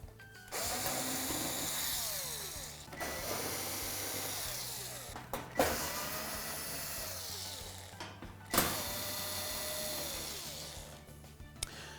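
A power screwdriver whirs in repeated bursts, pausing between each, as retaining screws are backed out of the panel of a Samsung smooth-top range; the tool sounds close and fairly quiet, with small metallic clicks in the gaps.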